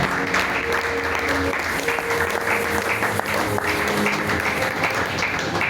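An audience at a church youth symposium bursts into sustained, loud applause, a dense wash of clapping from many hands with some cheering voices mixed in throughout.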